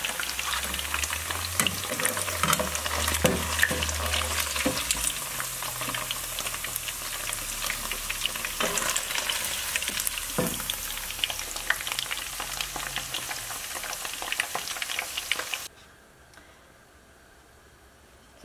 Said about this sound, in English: want to deep fry this until it turns golden brown, and then remove it from the heat